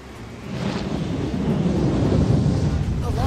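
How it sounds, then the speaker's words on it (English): A storm-bird creature in Final Fantasy XV roars in as a steady, loud rush of thunderous rumble and howling wind, swelling after the first half second and holding dense and close throughout. "That thing's like half bird, half storm, half airship."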